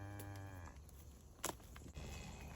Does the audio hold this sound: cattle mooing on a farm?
yes